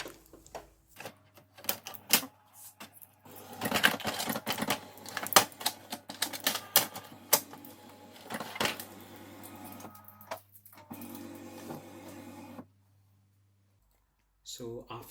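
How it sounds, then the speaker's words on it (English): An inkjet printer powering up after fresh black and colour ink cartridges are fitted, giving a busy run of close mechanical clicks, ticks and whirring bursts that stop abruptly near the end, leaving near silence. "So now we're going to power the printer on."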